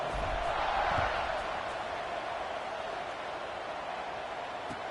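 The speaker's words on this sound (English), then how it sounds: "this crowd is buzzing after that last score" Crowd noise at a college football game with the Irish, a steady broadband stadium roar holding at even strength after a score, far and diffuse with no distinct voices standing out.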